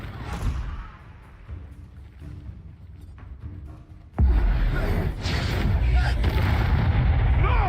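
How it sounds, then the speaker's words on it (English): A Confringo blasting curse from the Hogwarts Legacy video game erupts into a sudden loud, booming explosion partway through, followed by a sustained roar, after a quieter stretch of game sounds. "Confringo!"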